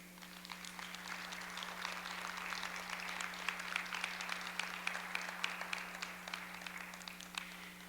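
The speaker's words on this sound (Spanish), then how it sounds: "dale un fuerte aplauso al Señor por ello" A church congregation applauds during a sermon, a dense, steady patter of many hands clapping at a distance over a constant low electrical hum.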